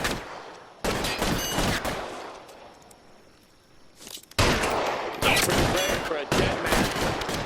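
Gunfire in L.A. Noire during a shootout with police, loud bursts of rapid shots that break off into a quieter lull, then return in heavy repeated volleys while someone briefly speaks.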